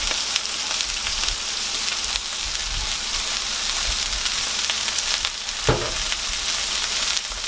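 Onions frying on a griddle for cheddar bacon mushroom smash burgers, an even, dense sizzle with light crackles and a brief scrape near the end, close and steady.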